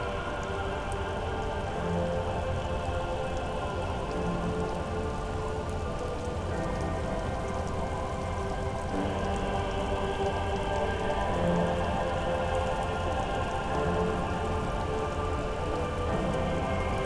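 Steady rain falling on water in the game Disco Elysium, an even patter of droplets with a constant hiss and no pauses, alone without voices.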